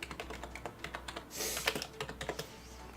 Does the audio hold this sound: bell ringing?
no